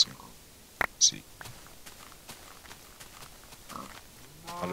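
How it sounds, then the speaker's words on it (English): Pigs grunt in a survival video game, a few short, scattered snorts and grunts at moderate distance, with soft footsteps and a quiet voice speaking in between. "A lot of pigs up here."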